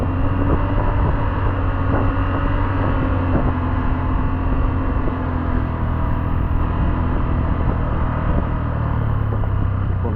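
A motorcycle engine descends a slippery, muddy hill road in second gear with engine braking, giving a steady, loud, close rumble with no pauses across the whole stretch.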